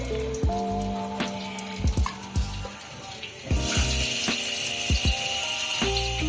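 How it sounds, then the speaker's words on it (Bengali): Potato pieces dropped one by one into hot cooking oil, a steady sizzle punctuated by soft plops and clicks, close and moderately loud with a louder hiss building partway through. "এবার মা এক এক করে আলু ছেড়ে দিচ্ছে কর তেলের মধ্যে আলুগুলো ভাজা হবে"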